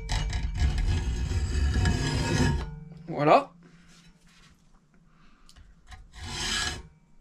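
A hand saw rasps through the corner of a wooden sliding bevel clamped in a vise, a few seconds of steady close scraping strokes, then a short scrape, a brief spoken word and one more burst of sawing.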